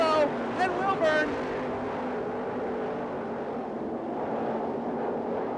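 Sprint cars race at the Knoxville Nationals, a continuous engine roar from the pack with a race announcer's voice briefly over it at the start.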